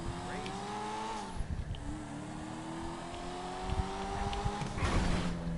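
A project car's engine revving while driving, its pitch climbing then dropping between gear changes with a second rise, moderately loud from inside the car, with short bursts of voices and wind noise.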